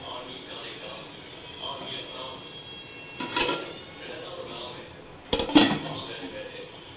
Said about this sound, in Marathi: तर अजून एकदा वाफेसाठी ठेवून टाकायचं झाकण त्याच्यावर